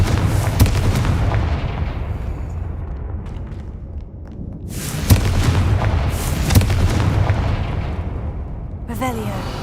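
Rumbling, booming blasts from Confringo fire spells in the game Hogwarts Legacy, loud and continuous with repeated bursts, a brief lull midway, and a voice speaking over the din.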